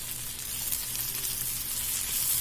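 Chilli powder and coriander powder fry in oil in a pan, giving a continuous fine hissing sizzle that grows slightly louder toward the end, moderately close with no one talking.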